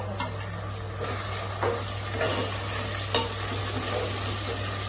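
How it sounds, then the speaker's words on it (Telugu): Tomato and green chillies fry together in a pan, a steady close sizzle with occasional soft scrapes of a stirring spoon over a constant low hum. "ఇప్పుడు టొమాటో, పచ్చిమిర్చి అయితే మొత్తంగా వేసేసి ఒక 2 మినిట్స్ అయితే ఫ్రై చేసుకున్నాము"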